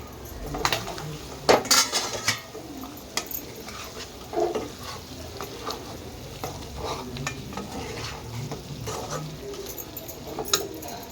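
Chicken curry stirred in a pot, a spoon scraping and clinking against the metal in irregular strokes over a soft background sizzle, close by with no talk.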